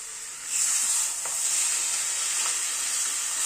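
Tomato paste goes into a pan of frying vegetables with spring onion, setting off a loud bright sizzle and hiss that swells suddenly and keeps crackling steadily.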